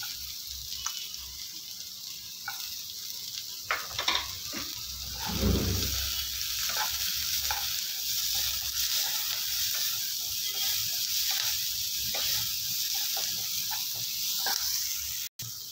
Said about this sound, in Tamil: இப்போ வெங்காயம் லைட்டாக வதங்கினா போதும்.